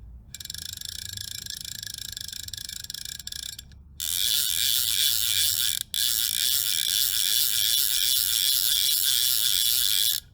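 A Hardy Sovereign fly reel's ratchet clicks in a fast, even buzz, softer at first, then a brief pause and a louder, sharper run of clicks as line pulls out, close-up with no talk.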